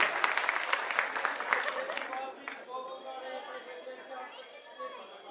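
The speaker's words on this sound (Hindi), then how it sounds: "इनके लिए ताली बजाओ" Crowd applause at a Delhi election campaign rally, dense clapping loud at first then thinning into scattered claps and murmuring chatter under a voice.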